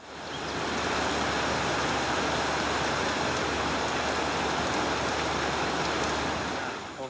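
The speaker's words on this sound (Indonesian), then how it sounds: "tadi itu turun hujan lebat dan tanaman kita sudah disirami hujan" Heavy rain pours down on a durian orchard as a dense, even hiss that rises in and holds steady and loud, with no voices over it.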